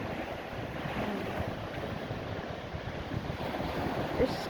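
Strong, cloudy-day wind gusts against the microphone over the continuous wash of surf at a beach on Bermuda, loud and unbroken, with no talking.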